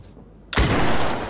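A sniper rifle shot from the tactical shooter Ready or Not, a single loud, sharp crack that bursts in after a near-silent moment and rolls into a long, dense echo.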